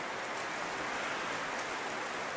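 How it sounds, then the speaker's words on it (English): Heavy rain pours steadily outside, a dense continuous hiss with no breaks, fairly loud and even throughout with no voices. "It's raining really hard."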